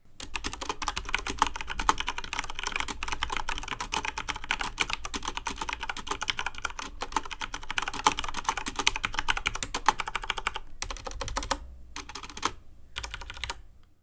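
Rapid, steady typing on a Corsair K95 Platinum mechanical keyboard with Cherry MX Brown switches, dense clacking keystrokes close up for a long stretch, with a few short pauses near the end.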